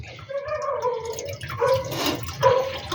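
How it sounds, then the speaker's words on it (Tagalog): Water poured into a pot for boiling anonang bark, a close, steady splashing and trickling with dripping accents that swell and fade across the pour, with no talking. "mga lods lagyan natin to ng tubig Ayan, may ng tubig"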